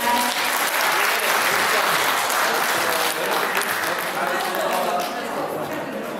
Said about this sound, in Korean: 오한숙 선생님께 다시 한번 힘찬 박수 부탁드립니다.